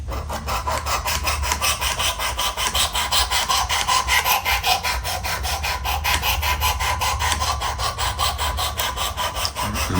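A knife is drawn repeatedly across the 220 grit abrasive of a Work Sharp Precision Adjust Elite sharpener, giving an even, rapid rhythm of close, dry scraping strokes that continues steadily with no talking.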